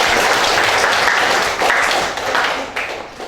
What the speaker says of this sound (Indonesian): kasih tepuk tangan juga buat Dimas.